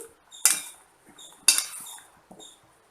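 A spoon stirring soya chunks soaking in hot salted water, striking the bowl in two sharp, close metallic clinks about a second apart, with faint scraping between.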